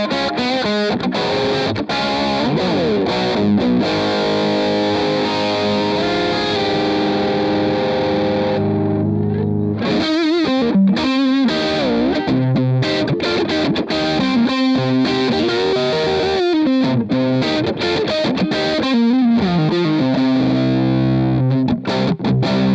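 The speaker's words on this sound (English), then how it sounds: "Bit of reverb just to give you more tone of the amp." Distorted electric guitar through a Boss Katana Air amp with reverb, played loud and continuously, with a brief pause in the middle before more chords and riffs ring out, no voices.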